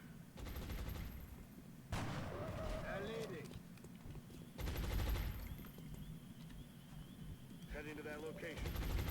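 Bursts of gunfire in the XCOM Long War video game, rapid automatic volleys sounding in several separate bursts over background game sound, with someone speaking at times.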